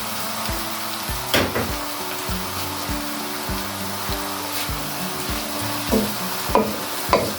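Lauki qeema fries in a pan, a steady sizzle broken by repeated knocks and scrapes of a spoon stirring, several sharper clatters standing out, close and fairly loud with no talk.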